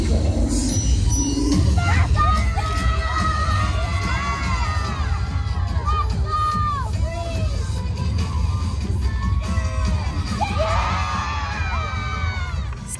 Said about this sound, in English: They had the entire arena cheering for them